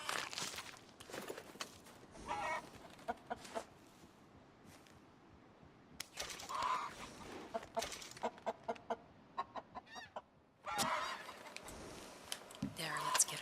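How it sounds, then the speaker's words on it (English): Rooster and chickens in Red Dead Redemption 2 Online, scattered clucks and calls over a soft outdoor game ambience with occasional footsteps, some louder bursts near the start and end. "there's the rooster"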